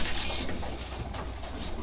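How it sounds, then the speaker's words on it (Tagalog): A racing pigeon coos close by, low soft throaty calls repeating over a dense bed of ambient noise, brief and continuous. "yung last bird namin, si MMFC is dumating na rin"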